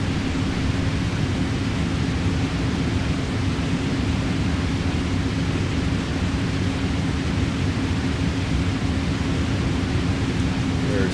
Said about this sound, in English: reversers are out